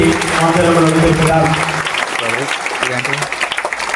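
A church congregation applauding at a festival service, a loud burst of many hands clapping close by that starts over a voice and then thins into scattered claps.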